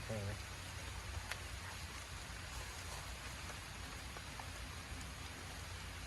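Steady rain falls in a constant, even hiss of drops pattering on surfaces nearby.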